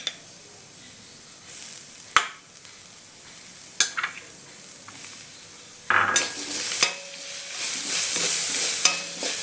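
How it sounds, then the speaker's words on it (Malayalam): Grated coconut is stirred and lightly roasted in a pan for a Kerala-style piranda chammanthi, a steady sizzle punctuated by scraping spoon strokes and clinks, growing louder and denser toward the end, with no voices. "തേങ്ങ കൂടുതൽ മൂക്കണ്ട, ചെറുതായിട്ടൊന്ന് വെന്താൽ മതി."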